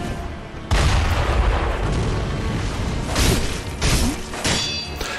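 An enemy perched up high fires a cannon in Sekiro, heavy booming blasts landing in a loud, rough sequence, a big thump at the start followed by several further impacts and crashes with no voices.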